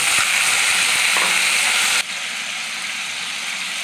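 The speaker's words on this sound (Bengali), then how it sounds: "ওই ভাজার তেলের মধ্যেই আমি আদা, রসুন, পেঁয়াজ, টমেটোর পেস্ট বানিয়েছিলাম, এটা দিয়ে দেবো।" Ginger, garlic, onion and tomato paste sizzle loudly in hot oil left over from frying, a dense steady hiss that drops a little in level partway through, with no talking.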